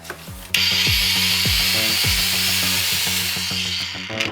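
A ProCraft PW2200 brushless angle grinder spins up with a soft start and runs at a steady high whine at full speed with a broad hiss, close and loud, winding down slightly at the end.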